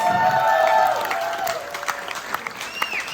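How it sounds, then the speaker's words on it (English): Crowd applause and some cheering at a live music show with a DJ, a dense wash of clapping under a sustained musical tone that fades, steady and moderately loud throughout. "Massive round of applause, guys."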